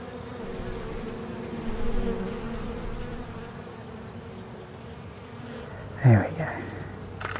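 A European honeybee buzzes steadily and softly as it flies about, with a brief louder swell near the end as it passes close by.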